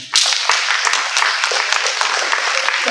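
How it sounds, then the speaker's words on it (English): A conference panel audience breaks into a round of applause, dense close clapping that starts abruptly and holds loud and steady throughout. "Big round of applause to all of you who know what you want to do in life."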